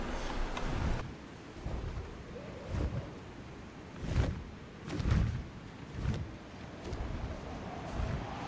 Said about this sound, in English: There's a storm brewing under the clouds.